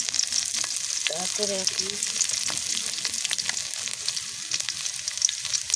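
Bay leaves and garlic sizzle steadily in hot oil for green mango pickle, a close, continuous crackling fry with small pops, while a voice speaks briefly over it.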